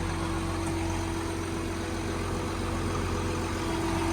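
A Case 4494 tractor in Farming Simulator 19 idles with a smooth, steady, low engine drone and a constant tonal hum, unchanging throughout and heard alone.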